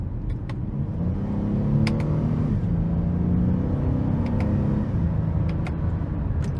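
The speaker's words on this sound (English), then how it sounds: "I'm going to put it into the sport mode so I can manually shift." A 2018 Honda Odyssey Touring minivan with about 95,000 miles accelerating in sport mode under manual shifting, a steady loud engine rumble rising in pitch with audible shift breaks, heard from inside the cabin.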